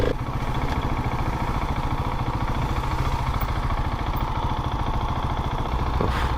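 A Husqvarna 701 Supermoto single-cylinder engine idling high, a steady, loud, close chugging rumble with a fast even pulse that holds unchanged throughout.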